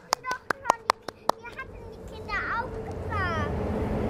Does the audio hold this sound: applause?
yes